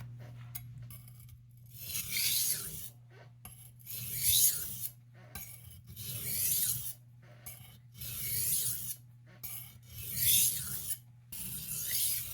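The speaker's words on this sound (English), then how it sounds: "how the razor passes across the stone, you can hear that graduation of pressure" An 8-inch carving knife drawn across a whetstone to cut in the bevel, giving repeated raspy grinding strokes in a steady rhythm with short pauses between passes, close and fairly quiet over a low background hum.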